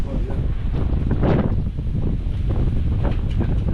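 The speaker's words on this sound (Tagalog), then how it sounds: "Lakas ng hangin dito." Strong wind gusts across an outdoor house-construction site at the Anyana Bel Air East project, buffeting the microphone with a steady, loud, rumbling roar.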